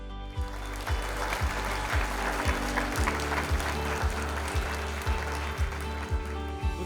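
Audience applause fills a hall as a speaker is welcomed to the stage, a steady dense wash of clapping at moderate level with a regular low thumping running underneath throughout.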